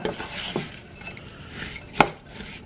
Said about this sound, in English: you're just going to stir that all together